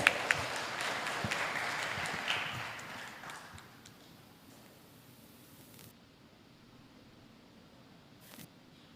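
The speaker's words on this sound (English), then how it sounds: "Please welcome to the stage and give him applause." A seminar audience at a university public lecture claps in a brief round of applause that is fairly loud at first, then thins and fades over a few seconds, leaving a quiet room with faint rustling.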